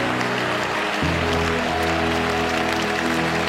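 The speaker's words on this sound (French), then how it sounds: "il faut te lever si tu le peux et lui donner les ovations, l'appréciation, les acclamations qui lui sont dues" A church congregation at a French-language worship service applauding loudly and continuously, with a sustained low musical drone from instruments underneath and no clear speech.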